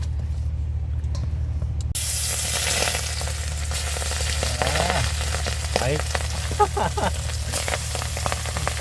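Food fries in hot oil in an outdoor picnic setting, a loud, steady sizzle that starts abruptly and runs throughout, with crackles and stirring on top and voices talking underneath.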